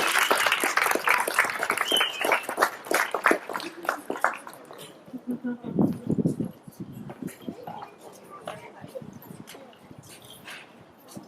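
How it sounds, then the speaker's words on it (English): Scattered applause from a small outdoor crowd at a school ribbon cutting, loudest at first then thinning, with voices and other background noises around it. "let's give a round of applause for our students"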